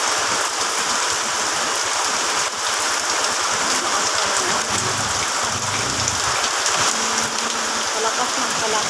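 Heavy rain pours steadily onto surfaces, a dense, continuous hiss close by with no pauses across the whole stretch.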